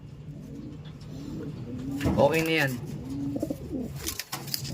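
A bird's soft, throaty cooing rises briefly over a background of murmuring voices and a low hum.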